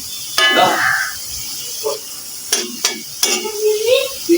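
Onions stirred and fried to a crisp golden brown for mutton biryani, with intermittent scraping strokes and soft sizzling close by, separated by short pauses.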